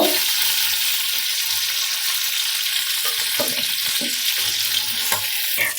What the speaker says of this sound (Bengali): মাছগুলোকে নেড়ে চেড়ে মিডিয়াম করে ভেজে নিয়েছি